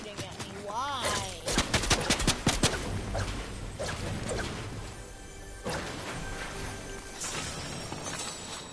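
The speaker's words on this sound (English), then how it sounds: "And they're shooting at me." Gunfire in the video game Fortnite: a fast burst of crackling shots and crashing impacts, loud and dense, under a continuous bed of game noise and music.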